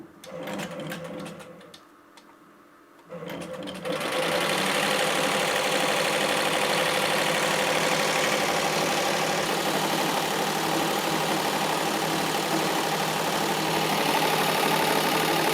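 A 1997 Tajima embroidery machine starting up after a USB emulator install: a brief lull, then a steady, dense mechanical whir and rapid needle clatter that holds loud and even for over ten seconds, with no voice.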